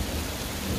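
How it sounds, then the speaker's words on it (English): Steady rain falls outdoors among planted trees, a dense continuous hiss with a low rumble running underneath, loud and unbroken. "Right now it's raining."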